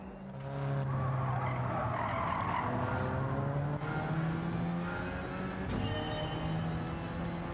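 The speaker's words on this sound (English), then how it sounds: "we are in the Alfa Romeo 4C Group 4 car, so let's go for the sector times and the lap attack." An Alfa Romeo 4C Group 4 race car in Gran Turismo 7 laps the Eiger Nordwand circuit, its engine droning and rising through the gears while tires squeal steadily under hard cornering, loud and continuous throughout.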